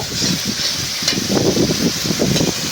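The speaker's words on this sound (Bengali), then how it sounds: "এদিকে আমার মশলাটাও কষানো হয়ে গেল" Spice paste frying in a pan while garlic is roasted for a Malabar spinach dish, with a soft continuous sizzle and light scraping of stirring.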